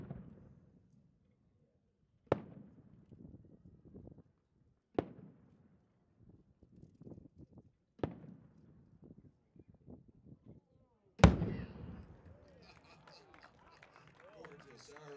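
Maltese three break firework shell with bottom shot, a series of sharp distant bangs a few seconds apart, ending in a bigger burst followed by crackling glitter, with people talking and cheering faintly in between.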